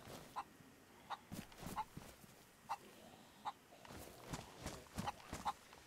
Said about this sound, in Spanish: Aquí está el gallo.